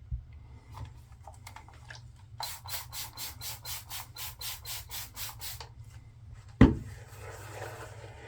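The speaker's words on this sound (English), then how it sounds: "this is getting a wonderfully nice smooth shave" A razor shaving a lathered face with Phoenix Shaving soap, heard as a quick run of close, rhythmic rasping strokes in the middle, with softer scraping before and a sharp knock near the end.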